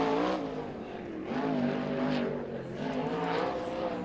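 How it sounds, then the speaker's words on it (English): A sprint car laps a dirt oval at Lawrenceburg Speedway during qualifying, its engine droning in rising and falling waves as it revs through the turns, steady and moderately distant, with no talk over it. "Next car out on the track to take time here in Fatheads Eyewear qualifying"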